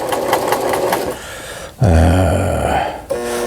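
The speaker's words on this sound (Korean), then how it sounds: "옷감을 넣고 바늘을 꼽고 3번 패턴의 이제 직선 바느질이죠" A Brother XL5500 sewing machine runs a straight stitch in fabric, a loud close whirring hum that pauses briefly and then restarts with a heavier motor drone.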